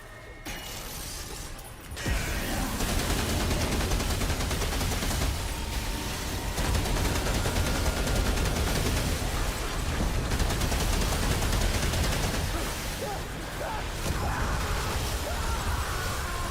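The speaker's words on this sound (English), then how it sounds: "Let's see how much the rune pistol does." Dense, continuous gunfire and impact noise from a rune pistol in the video game Remnant 2, loud and chaotic, with a quieter stretch at the start before the fire erupts and carries on steadily.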